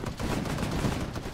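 Gunfire in the Vietnam-themed video game Arma, a dense, continuous burst of rapid shots and rattling fire that stays loud and steady through the short stretch, with no talk over it.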